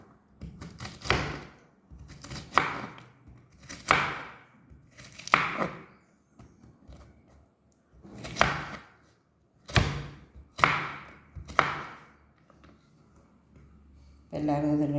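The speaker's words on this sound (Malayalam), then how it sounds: "ഈ വെണ്ടയ്ക്ക ഞാൻ ഇങ്ങനെ അരിഞ്ഞെടുക്കും," Okra (lady's finger) being chopped with a knife, a series of about nine crisp, close cutting strokes at an irregular rhythm, each distinct against a quiet background.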